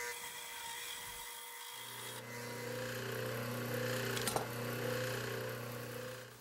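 Wooden sticks for a traditional rolling-stick fidget toy being turned on a lathe: a steady motor whine starts a couple of seconds in, swells into a rough, vibrating chatter as the tool bites, with a sharp burst near the middle, no voices.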